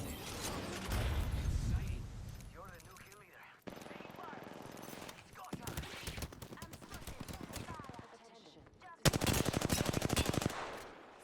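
Apex Legends firefight with a Peacekeeper shotgun blasting among bursts of rapid automatic gunfire and mechanical clatter, loud and choppy through most of the stretch with short gaps between volleys.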